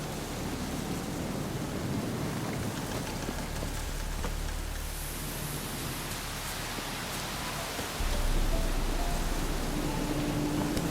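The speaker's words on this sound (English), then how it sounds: "Looks like rain." Steady rain falling in The Witcher 3: Wild Hunt on PS4, a broad continuous hiss of drops with a low rumble underneath, growing slightly louder near the end, with no voices.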